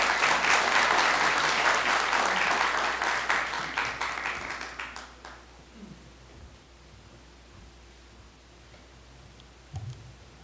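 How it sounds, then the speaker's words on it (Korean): An audience at a 2011 party members' rally in Jeonju applauds loudly to welcome a speaker, the clapping tapering off over about five seconds into a quiet room with a few faint knocks. "뜨거운 박수로 환영해 주십시오."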